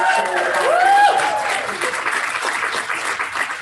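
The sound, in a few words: audience applause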